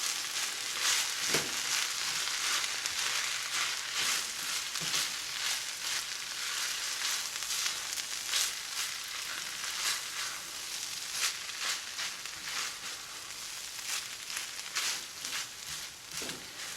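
Cooked egg is stirred with chicken and vegetables in a hot pan for a rice bowl, giving a continuous sizzle with frequent scraping and clattering stirring strokes close by.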